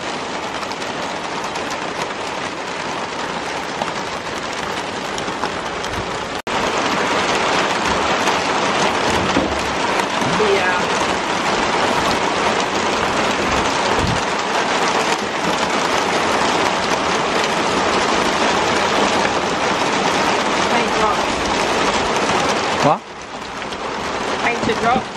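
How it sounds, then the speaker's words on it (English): Heavy rain pours steadily onto a surface at a camp shelter during a pig-hunting trip in New Zealand, a loud, dense, continuous hiss that swells after a few seconds and holds for the rest of the stretch. "Look at how heavy the rain it is."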